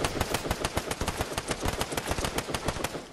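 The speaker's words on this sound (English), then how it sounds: "they're shooting at me" Rapid automatic gunfire in the Fortnite Battle Royale video game, a dense, evenly spaced burst of sharp shots that runs without a break, loud and close, with no talk.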